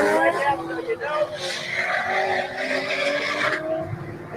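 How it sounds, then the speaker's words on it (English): A drag race car does a burnout, tires squealing loudly and continuously over engine roar for several seconds before the screech drops away, with voices talking over it. "So we're doing the burnout."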